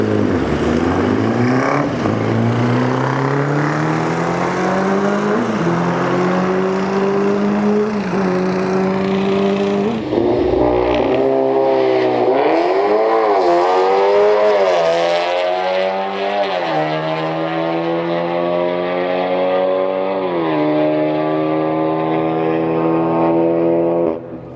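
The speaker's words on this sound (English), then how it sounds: "Now we've got this crazy trike thing against a go-kart, which is absolutely mad." A trike and a go-kart race down a drag strip, engines roaring loudly and shifting up through gears as the pitch climbs, then fading into the distance toward the end with no talk.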